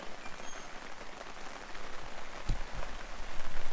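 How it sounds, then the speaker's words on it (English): Rain falls steadily at Long Plain Hut campground in Kosciuszko National Park, a soft even patter with a single sharper drop or tap partway through, quiet and with no one speaking. "As you can see, it's raining."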